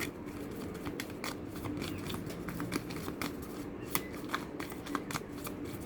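Tarot cards shuffled by hand close up, a quiet continuous riffling flutter with sharp small snaps and taps, no voices.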